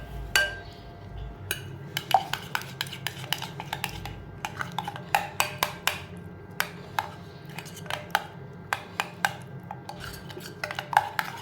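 A spoon stirs bitter gourd and onion with coriander powder, turmeric and salt in a pan, tapping and scraping against the metal in a steady run of sharp clinks over a soft background hiss.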